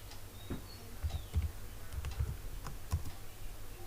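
Computer keyboard typing a database create view command, heard as a few close, soft key taps in an irregular rhythm over a faint steady background.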